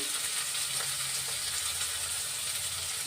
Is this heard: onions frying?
yes